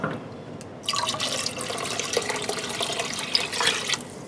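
Water splashes and gurgles as it is poured into a cooking pot from an awkward container, starting suddenly after a brief quiet and continuing unevenly nearby.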